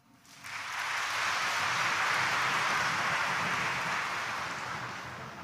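Steady, hissing applause from a church congregation at a Quiapo Church morning Mass starts abruptly, stays full and even for a few seconds, then tapers off gently.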